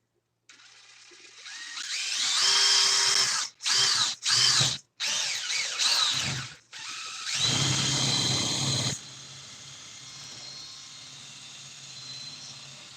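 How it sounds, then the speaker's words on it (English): An electric drill whirs loudly in several bursts with short pauses between them, then falls to a quieter, steady running hum. "Where'd that drill go?"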